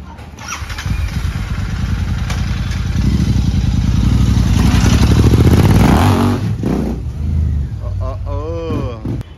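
A Royal Enfield GT 650 motorcycle rides off on a trial ride, its engine revving loudly and building up close by before pulling away, with voices heard over the engine.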